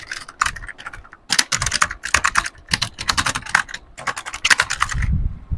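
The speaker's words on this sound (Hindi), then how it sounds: "ये जो कीबोर्ड होते थे, स्प्रिंग वाले बटन हुआ करते थे और बहुत ही ज्यादा चलते थे" Fingers type on a computer keyboard with springy buttons, producing bursts of crisp, loud clicking keystrokes separated by short pauses, close up and with no speech.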